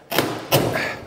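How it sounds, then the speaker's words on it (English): A rotted wooden trailer floor board is pried up, giving two distinct heavy thuds about half a second apart, each followed by a creaking, splintering rasp, close and fairly loud with no talking. "I think it'll pry right up."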